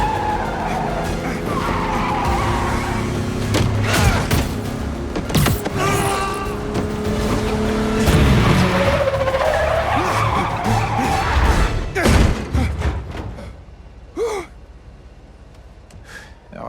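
Car skidding and braking in Marvel's Spider-Man 2 on PS5, loud continuous tire screech and engine roar over several seconds, tapering off near the end with a few gasps.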